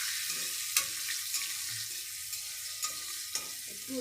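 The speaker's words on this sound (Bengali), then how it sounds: "এগুলো একটু ভেজে নেব কড়াইতে।" Pumpkin, chickpeas and green chillies fry in oil in a wok, giving a continuous soft sizzle, close and fairly quiet, with a few light scraping stirs along the way.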